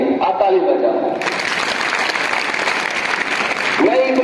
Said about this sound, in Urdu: آپ تالی بجاؤ